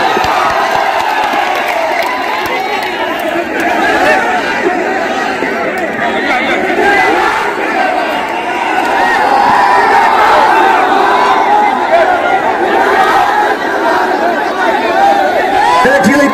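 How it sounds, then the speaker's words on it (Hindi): Large crowd at an open-air political rally roaring with loud sustained cheering, shouting and chatter, dense and continuous throughout with no clear pause. "आप लोग जोरदार ताली से स्वागत करें।"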